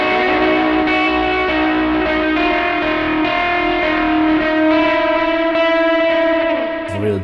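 Distorted electric guitar chords played through a Line 6 HX Effects unit ring out with heavy reverb and repeating delay echoes, sustained and loud, washing into a dense, dissonant wall of sound.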